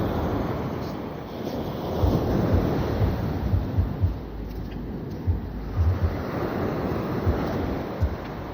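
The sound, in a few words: waves on a beach in Jamaica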